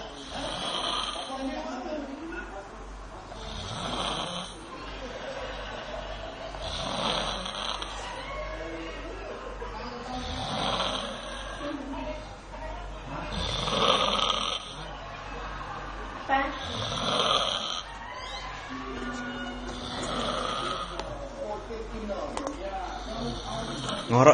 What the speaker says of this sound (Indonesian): Tuh, ngorok kan?